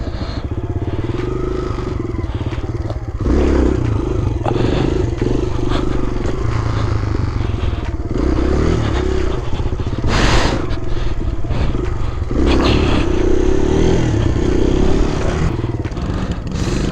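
A Kawasaki KLX 110 pit bike engine runs loud and close, revving steadily and surging during wheelie practice, with some clatter and no talk over it.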